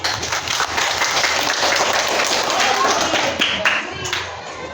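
Classroom applause for a student after a practical exam presentation on writing procedure text, a steady clatter of many hands clapping throughout, with some voices mixed in underneath.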